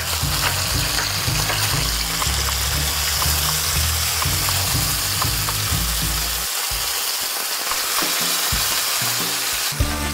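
Hen of the woods mushrooms fry loudly in a pan, a dense continuous sizzle with scraping and pressing sounds as they are flipped and pushed down, close up with no talking.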